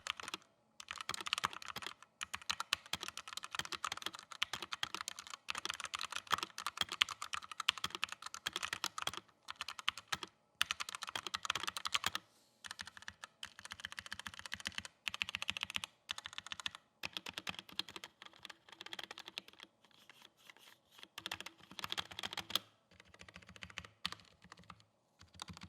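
Rapid typing on a Redragon K559 hotswap wireless mechanical keyboard, a close, crisp stream of clacking keystrokes in irregular bursts with brief pauses, heard alone without talking.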